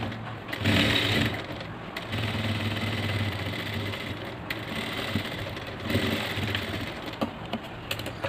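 A sewing machine runs a double stitch on a chudidhar with a continuous buzzing whir, close and moderately loud, swelling briefly at the start.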